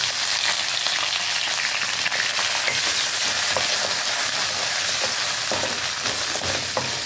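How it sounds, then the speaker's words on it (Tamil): Onions and tomatoes sautéing together in a pan for a green turkey berry kara kulambu, giving a loud, dense, continuous sizzle and crackle close up, with faint utensil scrapes and no voices. "வெங்காயம் தக்காளி வதங்கட்டும் பாருங்கள்"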